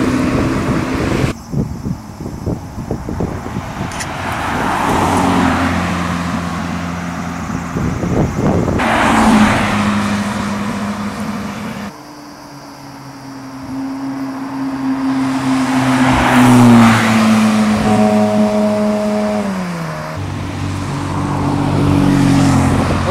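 McLaren 570S and 650S supercars drive by on Japanese roads, engines swelling and fading as each passes close, with gear-change pitch sweeps and wind noise between.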